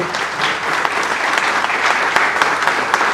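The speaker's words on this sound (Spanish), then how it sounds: "Un aplauso final para el profesor Almando." Steady applause from a lecture audience closing a public talk, dense clapping sustained throughout at even loudness with no voices over it.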